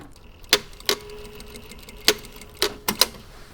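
A sewing machine stitches the underarm seam of a garment with an all-in-one facing. It makes sparse, sharp clicks, about six separate taps spaced irregularly over a quiet background, with no talking.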